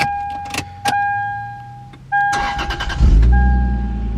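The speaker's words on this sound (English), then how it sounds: "We're gonna turn on the car." A Lexus IS300 with its panels removed cranks and starts after a few dash chimes, the engine catching loudly and settling into a steady close idle with no talking.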